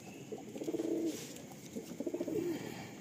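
Madrasi pigeons coo in a loft on an open rooftop, two soft rolling coo phrases rising and fading close by over a quiet background.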